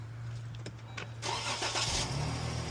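Car bought at auction cranked and started, a few quiet clicks and a short starter grind before the engine catches at about one and a quarter seconds and settles into a steady close idle.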